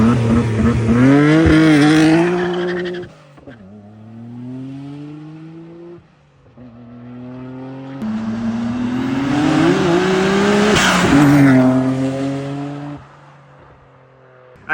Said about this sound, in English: I guess I could still launch it without launch control.